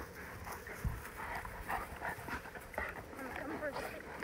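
A dog pants and snuffles close by in a backyard garden with chickens nearby, with short breaths and faint whimpers in an uneven rhythm and people talking in the background.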